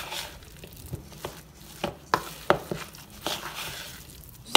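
A spoon works through a cottage cheese mixture for syrniki in a bowl, giving soft irregular scrapes and knocks against the bowl's sides, close and fairly quiet.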